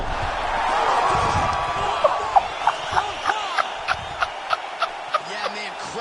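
An arena crowd roars in the UFC 5 fighting game after a knockout, a broad swell of cheering that fades while rhythmic sharp thuds repeat through the second half.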